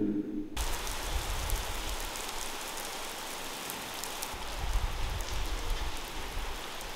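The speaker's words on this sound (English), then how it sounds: "It's really raining, like a lot." Heavy rain pours steadily in Bavaria, Germany, a dense continuous hiss of drops on surfaces with slight swells in intensity, close and enveloping, with no voices.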